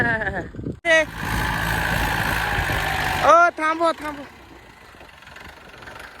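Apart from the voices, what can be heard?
tractor engine idling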